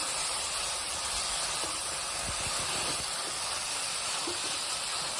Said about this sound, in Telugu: వెల్లిపాయలు వేసేసాను దానిలో ఇప్పుడు ఇది ఫ్రై చేయాలి కదా